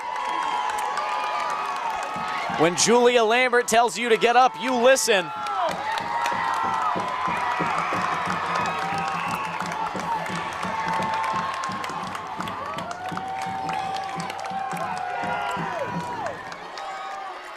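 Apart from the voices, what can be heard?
high school football crowd cheering on their feet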